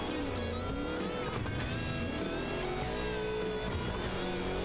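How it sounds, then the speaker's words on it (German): A car engine in the racing game Burnout Paradise holds a steady, continuous roar with shifting tonal whine, loud and unbroken throughout, no voices. "Halte das Gas gedrückt, um den Motor hochzupowern."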